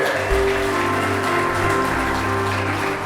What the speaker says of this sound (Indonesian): Saya ingin kita semua yang hadir malam ini tepuk tangan yang lebih keras untuk CWM